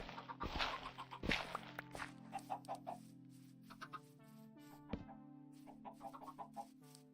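Minecraft chickens cluck in short, repeated bursts over a steady low background tone, mixed with quick footstep taps and clicks from the game, moderately close and fairly quiet.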